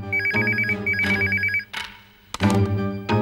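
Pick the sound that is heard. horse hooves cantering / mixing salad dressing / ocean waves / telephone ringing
telephone ringing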